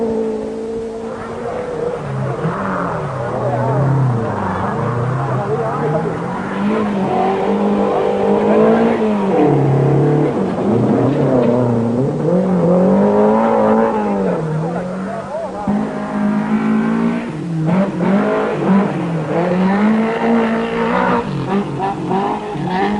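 Rally cars, including Saab, Volvo and Ford Escort entries, race on the 1973 1000 Lakes Rally, engines rising and falling through gear changes over a sustained roar while a commentator talks throughout.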